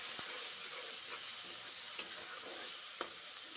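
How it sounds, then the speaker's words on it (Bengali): Onion paste and spices frying in oil in a pan, a steady close sizzle with scraping stirs and a few sharp utensil knocks against the pan. "মশলা কষে নিচ্ছি কাঁচা গন্ধ থাকবে না ঠিক ততক্ষণ কষে নেব"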